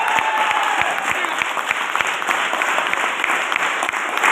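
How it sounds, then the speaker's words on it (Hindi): Audience clapping fills a Safe Shop leadership gathering: a dense, steady wash of many hands at close range, sustained without a break and with no voices on top. "खाली आके यहाँ पे ताली मारना बंद नहीं करना"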